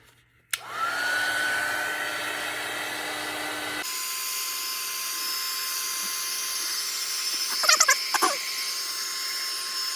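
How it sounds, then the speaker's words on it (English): Heat gun drying a fresh coating on a tissue-paper journal cover, a steady loud blowing whine that starts abruptly, shifts tone partway through, and carries a few brief clicks near the end. "I'm just going to use my heat gun to make sure it's dry"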